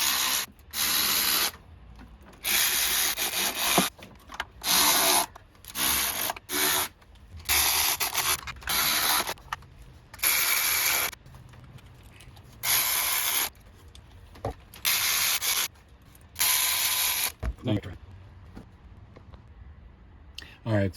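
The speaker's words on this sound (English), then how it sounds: "Grab my ratchet and tighten some things down." A hand ratchet tightening bolts during a VVT solenoid replacement on an engine, heard as repeated bursts of fast clicking strokes with short pauses between them, loud and close.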